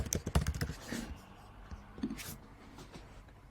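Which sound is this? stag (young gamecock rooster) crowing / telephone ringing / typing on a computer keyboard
typing on a computer keyboard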